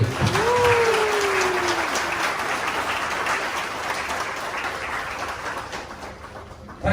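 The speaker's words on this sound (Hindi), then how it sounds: "एक अच्छी ताली प्रभु के लिए।" A church congregation claps for the Lord after a prayer, a steady, dense wash of applause that holds for several seconds and slowly thins, with a short voiced sound near the start.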